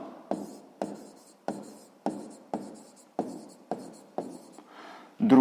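Pen or pencil writing by hand on paper during a sixth-grade maths exercise, a series of about ten short scratchy strokes in a steady rhythm, close and fairly quiet, ending in a louder rustle.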